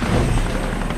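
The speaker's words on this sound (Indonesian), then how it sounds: "Kovac dan Lukas diterbangkan lagi menggunakan helikopter menuju ke Gandamak" Steady rotor chop of a helicopter, a loud, continuous thrumming drone.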